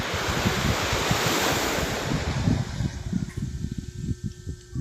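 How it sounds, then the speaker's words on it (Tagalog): Ocean waves wash onto the shore around dawn, a loud broad roar of surf that fades into gusty wind buffeting the microphone. "Tunog pa lang ng alon at yung mga ibon, talagang nakaka-relax na siya."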